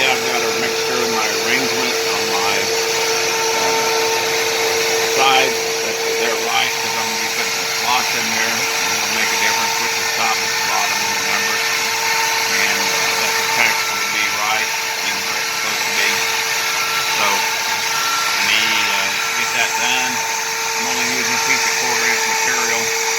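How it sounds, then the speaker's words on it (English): A CNC router cutting puzzle dice box pieces gives a steady, high whining drone that runs loud and unbroken throughout, with faint scraping texture beneath. "cutting out the outside boxes"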